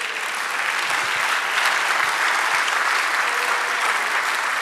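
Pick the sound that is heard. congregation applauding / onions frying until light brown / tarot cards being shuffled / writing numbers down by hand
congregation applauding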